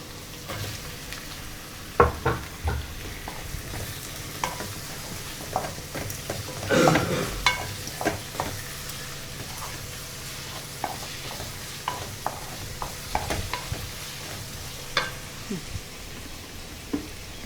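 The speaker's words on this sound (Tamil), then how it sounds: "வெங்காயம் நல்லா வதங்கிருச்சு இப்போ தக்காளி போட்டுக்கலாம்" Onions and tomatoes sauté in a pan for a seafood meal, with a low continuous sizzle broken by scraping and clacking stirring strokes, one louder stir burst midway, close by and without talk.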